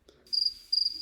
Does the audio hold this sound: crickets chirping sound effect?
yes